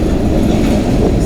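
A freight train rolls through a rail yard close by, a loud steady rumble of wheels and cars with faint clickety-clack, no talking.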